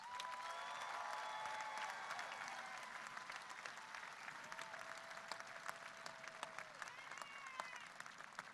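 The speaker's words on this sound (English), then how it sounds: "Please give them a round of applause" Graduation ceremony applause greets the 2018 Viking Scholars, a broad sustained crowd clapping at moderate distance with a few tonal whistles or cheers rising over it throughout.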